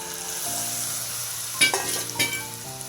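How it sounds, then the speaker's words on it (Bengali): Boiled peas (kalai) stirred into a potato-tomato masala frying in a pan, a continuous close sizzle broken by a couple of sharper scraping stirs of the spoon, with no talk. "কলাইটা দিয়ে ভালো করে মিশিয়ে নেব আলু মশলার সাথে।"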